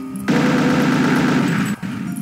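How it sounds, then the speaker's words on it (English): Rapid, sustained shotgun and chain gun fire from a modded Doom first-person shooter, a loud dense burst of repeated shots running continuously for about one and a half seconds before a brief break and a resumption. "he changes the sound effects for his shotgun and chain gun"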